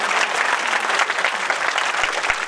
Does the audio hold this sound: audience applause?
yes